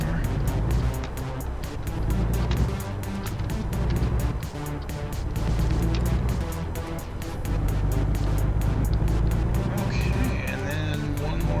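Engine drone of a car driving in American Truck Simulator, a steady loud motor hum with rhythmic ticking, faint talk now and then over it.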